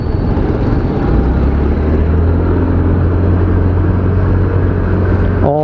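A 2022 Yamaha Fascino 125 Hybrid scooter engine hums steadily while riding, a loud, constant drone mixed with road and wind rush, ending in a brief rising chirp.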